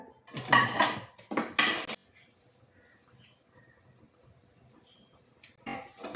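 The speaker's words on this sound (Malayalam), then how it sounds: "മുളക് ബജിയാണ് നിങ്ങൾ ഈ കാണുന്നത് കേട്ടോ ഇത് നമുക്കൊരു പാത്രത്തിലോട്ട് ഇട്ട് കൊടുക്കാം" Fried chilli bajji fritters being tipped into a serving dish make two short, sharp clatters close by. A quiet pause follows, then a few faint clinks at the end.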